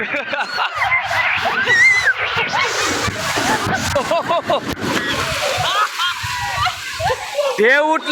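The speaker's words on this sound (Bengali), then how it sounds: "ঢেউ আসলে মানে ওই ঢেউয়ের ওভারটেক করে দাঁড়াইতে হয়, নাইলে আরেক ঢেউ আইনা তলে হয়ে যাব।" Sea waves at Cox's Bazar beach crash and splash loudly close by in churning bursts, while people shout, scream and talk excitedly over the surf.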